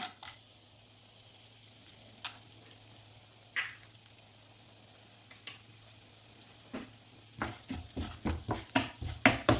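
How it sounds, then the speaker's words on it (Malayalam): Chana dal and urad dal frying in oil for aval uppuma, a soft steady sizzle punctuated by sporadic clicks and stirring scrapes that grow into rapid, louder stirring knocks toward the end. "ഇത് ചെറുതായി ഒന്ന് ഫ്രൈ ആയി വരട്ടെ"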